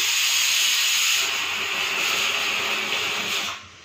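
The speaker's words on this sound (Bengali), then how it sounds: "আর কুকারে একটু ডাল চাপিয়েছি" A pressure cooker full of dal lets out a loud, continuous hiss of escaping steam that holds steady, then cuts off abruptly near the end.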